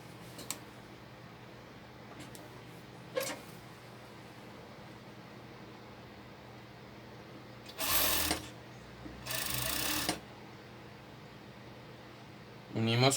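A sewing machine stitches the side seams of a crop top along an oval curve, running in two short bursts of about a second each amid quiet room tone and a few clicks.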